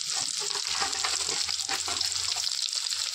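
Fish roe and potatoes frying in hot oil with turmeric and salt, a dense crackling sizzle close and steady throughout with faint stirring, no talking.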